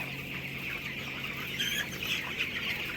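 Young broiler chickens, about 13 days old, cluck and chirp in a poultry shed with wood-shavings litter, a steady busy chatter of many birds nearby under a constant low hum.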